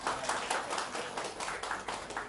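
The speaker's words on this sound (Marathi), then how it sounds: "सो प्लीज जोरात टाळ्या होऊन जाऊ द्या, एकदा एकदम जोरात" Applause for a birthday girl at a 60th birthday gathering, a quiet, steady patter of clapping hands from a small group with no talk.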